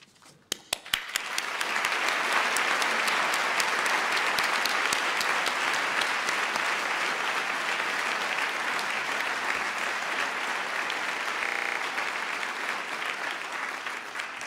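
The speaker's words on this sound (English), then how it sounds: "I ask you now to join me in congratulating all of our graduates with your applause" Audience at a PhD graduation ceremony breaks into applause, a few first claps swelling quickly into a loud, sustained wall of clapping that holds steady to the end.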